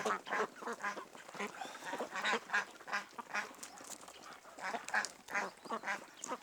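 Several village ducks being fed quack repeatedly nearby in a busy, overlapping chorus of short nasal calls.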